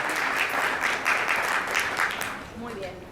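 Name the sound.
audience applause for panel speakers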